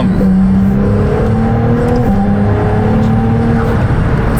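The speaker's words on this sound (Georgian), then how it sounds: "ახლა ისევ ჩავვრთეთ შიდაწვის ძრავა" A Ferrari 296 GTB's combustion engine runs loud and close, with a steady, droning rev that rises and falls slightly throughout and no talk over it.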